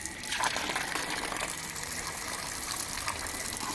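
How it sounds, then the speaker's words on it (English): Clean, cold water runs and gushes steadily from a public fountain spout in Rome, a continuous bright splashing stream close by with no voices over it. "It's like clean water."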